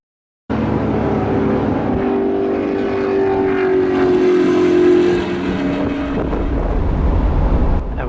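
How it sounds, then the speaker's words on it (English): A 1995 Chevy Caprice with a T56 manual gearbox runs laps on a race track, its engine a loud, steady drone close to the mic with wind rush mixed in, rising slightly midway before easing off. "It's not every day you get to run laps in a 95 Chevy Caprice with a McLaren."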